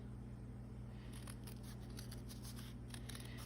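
Scissors snip through folded origami paper in a quick run of crisp cuts, close and clear over a steady low hum, with no talk.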